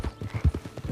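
Horse hooves clip-clop in a quick, even trot in the Red Dead Online video game, close and clear, with about seven hoofbeats in a short burst.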